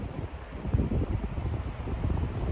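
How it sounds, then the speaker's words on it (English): Strong wind whipping across the microphone outdoors during a Georgia archery deer hunt, a loud, continuous buffeting roar with uneven gusts and no voices. "I'm not sure what spooked them really, other than just the wind. I mean, it's whipping pretty good."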